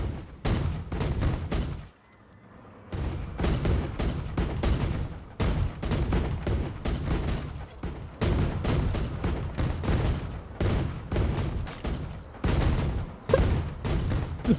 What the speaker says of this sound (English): All the cannons.